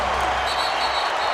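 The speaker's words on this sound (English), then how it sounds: "Listen to this crowd." Basketball arena crowd at Staples Center roaring and cheering during a Lakers game, a dense, continuous wash of noise filling the whole space with no pauses.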